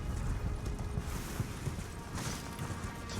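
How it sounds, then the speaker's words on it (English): Horse hooves galloping in the video game Elden Ring, a quick rhythmic clip-clop beating steadily throughout, fairly quiet and thudding, with no voices. "let's get on our horse here"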